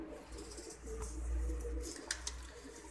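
A Mohar wala pigeon cooing, a low soft throaty coo close by, rolling for about a second over quiet background rustling.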